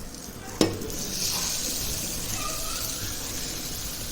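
Mushrooms are tipped into a pan of frying masala for mushroom biryani and stirred, a soft steady sizzle after one sharp clink of a utensil against the pan.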